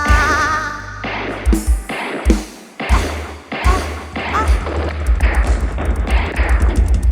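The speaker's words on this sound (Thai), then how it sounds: "เสียงปืนยิงขึ้นฟ้า" Gunshots are fired into the sky at a Buddhist Lent candle festival procession in Thailand, sharp repeated bangs over loud procession music and a booming bass beat, with shouting voices mixed in.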